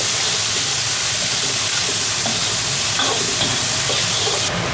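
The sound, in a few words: pickled chili peppers frying in a wok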